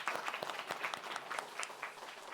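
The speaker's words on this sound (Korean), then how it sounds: "하나님의 인도하심에 또 우리 감사의 영광의 박수 올려드리도록 합니다" A church congregation at a youth worship service breaks into sustained applause, dense overlapping claps filling the room at a steady moderate level with no talking over it.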